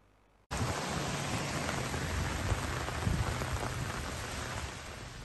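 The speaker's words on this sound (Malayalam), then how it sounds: "യുഎഇയുടെ വിവിധ ഭാഗങ്ങളിൽ അതിശക്തമായ മഴ." Heavy rain pours down in the UAE, starting abruptly as a dense, loud, steady roar of drops that keeps an even intensity throughout with no voices.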